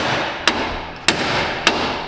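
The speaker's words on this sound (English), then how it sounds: "just give it one slap of the hammer" Three sharp hammer blows on metal, fitting wheel studs on a 1JZ-powered NASCAR race car, evenly spaced about half a second apart, ringing briefly over a steady background hum.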